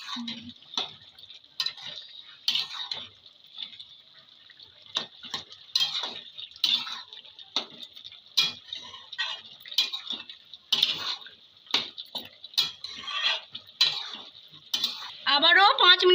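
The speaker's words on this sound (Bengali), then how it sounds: "এবার আমি নেড়ে দেবো।" A spatula scrapes and clinks through a papaya and potato curry in a pan, quick irregular taps and scrapes over a faint steady hiss, close and fairly quiet.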